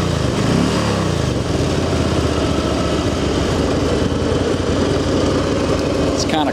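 A used Harley-Davidson Road King FLHR motorcycle engine idles steadily and loudly up close on a cool day, a continuous throbbing rumble with slight throttle feathering throughout.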